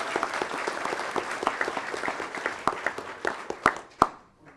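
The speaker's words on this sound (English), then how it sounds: "Let's give Eric a round of applause too." Audience at a school board meeting applauds, a dense patter of claps that thins into a few louder, distinct claps and fades out by the end.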